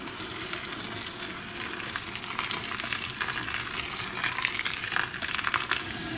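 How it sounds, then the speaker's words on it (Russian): Liquid soap pours steadily into a container holding copper coins, a continuous soft hissing, splashing flow that stays fairly even and close throughout, with no talking. "Буду заливать не до самого верха, чтобы вот мыло вот это скрылось."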